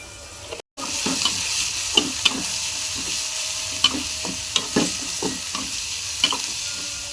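Onions and tomatoes cooking in a pan with spices, a continuous close sizzle with regular sharp taps and scrapes of a spoon stirring against the pan.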